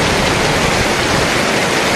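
A mountain river rushes past in the Kinnaur region, a loud, steady, close roar of flowing water with no other sound.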